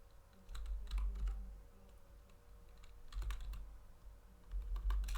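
Typing on a computer keyboard at a router command line, quiet close clicks and taps in short bursts with pauses between them.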